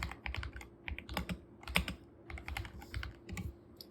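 Rapid, irregular keystrokes on a computer keyboard as a short comment is typed, close and fairly quiet, with brief pauses between bursts of clicks.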